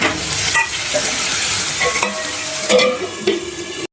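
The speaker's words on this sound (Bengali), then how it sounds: "এটা আমি এখন স্লো ফ্লেমে একদম ভালো করে কষিয়ে নেবো" Potato and tomato gravy sautéing over a slow flame, a steady sizzle with repeated scraping stirs of a spatula against the pan, close and fairly loud with no talk.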